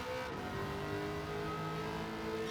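A Corvette ZR1 C6 from 2009 drones in Gran Turismo 7 on the Sardegna Road A track, its engine a steady, sustained tone humming quietly and evenly throughout with no voices.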